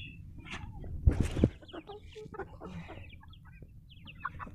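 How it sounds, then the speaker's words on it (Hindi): Chickens kept in a cage cluck and squawk in a short burst of loud, close calls in the second second, then scattered softer clucks and rustling continue over a low background hum. "अभी आप लोगों को मैं दिखाता हूँ अपने मुर्गियाँ एक केज के अंदर"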